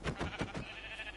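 A sheep in Minecraft bleats in a quick burst of wavering, pulsed bleats, close and fairly soft, followed by a faint trailing tone.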